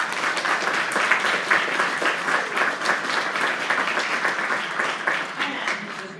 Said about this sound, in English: let's clap for this wonderful group of clinical teachers